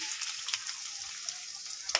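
Onions frying in hot oil for a green jackfruit cutlet recipe, a faint hissing sizzle with a few light pops and clicks, close and quiet, no one talking.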